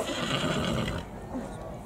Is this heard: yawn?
no